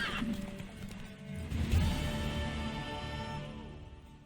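Horse in The Witcher 3 gives a loud whinny, followed by snorting and shifting hooves against a faint game background, with no voices.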